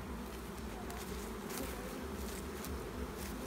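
Honeybees flying around nuc hives: a dense, continuous buzzing swarm hum, moderately close and steady, with no voices.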